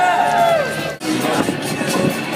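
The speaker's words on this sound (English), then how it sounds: "Give a cheer." Crowd at the Gumball 3000 rally in London cheering and calling out in a loud, steady roar, with a brief dip partway through before the noise swells again.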